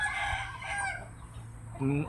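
A rooster crows among about a hundred free-range chickens roaming an open plot of over two rai, a fairly close, loud crow followed by a short cluck near the end.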